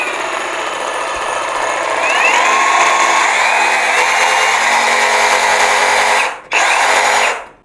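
DongCheng DCJF32 cordless brushless reciprocating saw running unloaded at its lowest variable speed setting, a steady close mechanical whine and buzz that rises slightly after start and cuts briefly before resuming.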